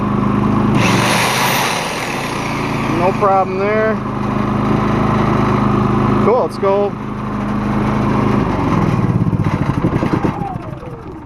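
A small garden engine runs loudly, with a revving sweep, then winds down and powers off; someone talks briefly over it.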